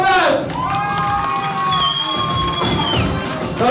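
An audience at a breakdance event cheers and whoops loudly, with high excited shouts and children's voices rising over a crowd roar throughout.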